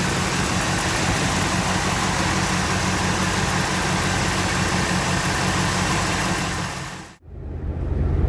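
A Buick 401 Nailhead V8 runs steadily close by with a loud, even rumble that suddenly stops near the end, followed by a low lingering hum.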